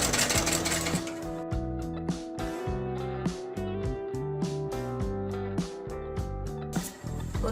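Electric sewing machine stitching fabric for a dori, running in short bursts with pauses between, its motor and needle whir rising and stopping repeatedly at close range.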